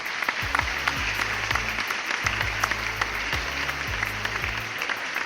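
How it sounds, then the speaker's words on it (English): Steady round of applause for a radio show, a continuous wash of clapping with low tonal music underneath throughout. "Round of applause for us."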